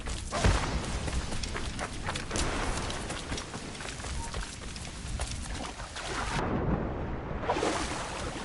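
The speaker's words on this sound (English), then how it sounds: "storm's getting worse" Thunderstorm in Assassin's Creed Rogue: steady heavy rain and wind noise with low rumbling thunder and thuds throughout, briefly dipping before the storm roars back.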